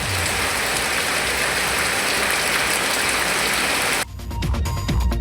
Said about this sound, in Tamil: சுமார் அரை மணி நேரத்திற்கு மேலாக சாரல் மழை பெய்தது